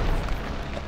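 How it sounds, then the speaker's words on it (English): A deep, loud boom from a grenade explosion in Fallout New Vegas, a single dense low rumble filling under a second. "No! A grenade! Frag out!"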